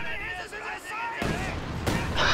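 Katyusha rocket artillery barrage in a strategy video game, with booming broadband blasts at about 1.2 and 1.9 seconds cutting through a game's tonal music and a voice talking underneath.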